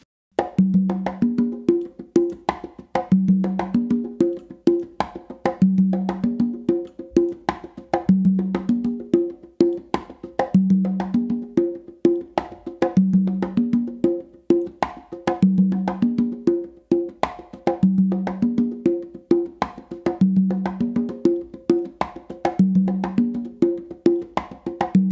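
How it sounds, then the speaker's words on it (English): Conga drums playing a modern funk groove, a steady repeating pattern of open tones and slaps cycling through evenly, close and alone with no talking. "Now to play the whole groove all the way through, it's gonna sound like this."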